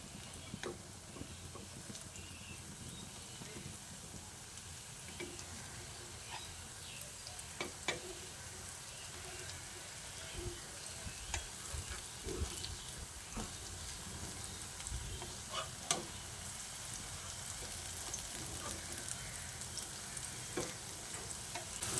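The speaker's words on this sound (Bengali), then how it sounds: "আমি যে 3টে আলু দিয়ে ব্যাটার তৈরি করে নিয়েছিলাম তাতে 2 ব্যাচ বড়া আমার ভাজা হয়ে যাচ্ছে" Potato batter fritters (bora) deep-frying in hot oil, a steady soft sizzle with faint crackles and occasional ticks throughout, fairly quiet and continuous with no voices.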